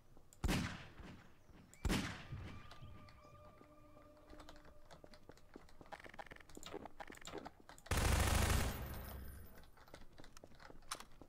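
Gunfire aimed at the Martian Tripod in Garry's Mod, with two sharp loud shots, a stretch of clicking and mechanical ticking, then a longer burst of heavy roaring fire.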